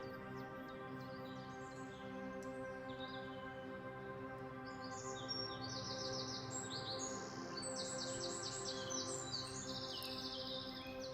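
Small birds chirp and tweet in quick bright bursts, faint and somewhat distant over a steady humming backdrop.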